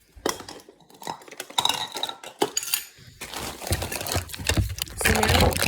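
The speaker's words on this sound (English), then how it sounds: "Finally, we're gonna grab some measuring tools" Metal measuring cups and spoons clatter and clink in a home kitchen while cookie ingredients are gathered, a quick run of light jangling handling sounds with brief pauses between, growing busier and denser toward the end.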